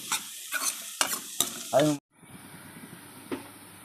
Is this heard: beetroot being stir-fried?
yes